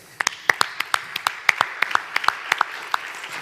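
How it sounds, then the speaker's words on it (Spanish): A small audience at a round-table panel claps for a guest: a sparse run of sharp, distinct hand claps from a few people, close and uneven in rhythm. "Un aplauso."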